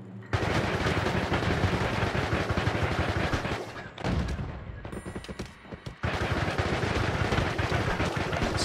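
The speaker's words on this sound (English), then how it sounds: "Guy's literally shooting at me from like a mile away" Enemy gunfire aimed at the player in Noita: rapid, loud bursts of shooting that run steadily, break off briefly in the middle, then resume at full intensity.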